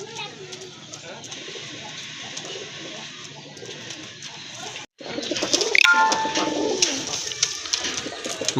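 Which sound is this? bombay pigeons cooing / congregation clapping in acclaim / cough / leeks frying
bombay pigeons cooing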